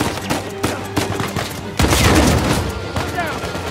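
Rapid gunfire from a firefight in Uncharted 4 crackles in close bursts, then swells into a dense, loud barrage of overlapping shots.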